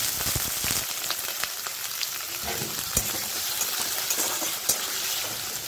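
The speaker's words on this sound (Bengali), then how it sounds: "তো এবার আমি এর মধ্যে আলু পেঁয়াজ কাঁচা লঙ্কাটা দিয়ে দেব" Potatoes, onion and green chili fry in hot mustard oil, a dense, steady sizzle and crackle with occasional sharp pops, close and continuous, with no talking.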